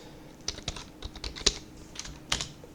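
Quick bursts of keystrokes on a computer keyboard while a MySQL password is entered, a dozen or so close, crisp taps in an uneven rhythm, heard alone.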